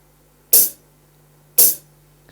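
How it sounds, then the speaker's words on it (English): Two crisp, bright hi-hat hits from an electronic rhythm pad, short and hissy, spaced about a second apart with quiet between them. "So this is the sound of the hi-hat."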